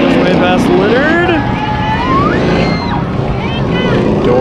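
Race cars in a figure 8 race at the Antelope Valley Fair, engines roaring and whining continuously at close range, with rising and falling revs, under a commentator's excited play-by-play and crowd noise.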